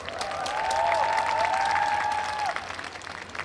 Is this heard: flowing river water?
no